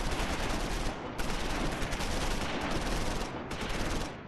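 Dense gunfire from the Close Combat IV war game during a Losheim battle, a continuous loud crackle of rifle and machine-gun fire with sharp bursts near the middle and end, no talk over it.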